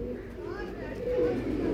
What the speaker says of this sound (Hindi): ये वो कबूतर है, आप इसकी दूसरी आंख देखें।